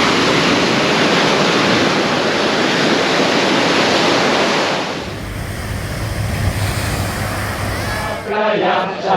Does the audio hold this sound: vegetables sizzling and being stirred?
no